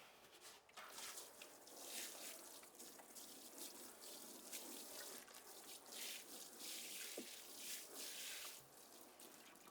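Water pours steadily and quietly into a plastic sub-irrigated planter bin filled with potting mix, a continuous soft splashing trickle that lasts about ten seconds, with no talk.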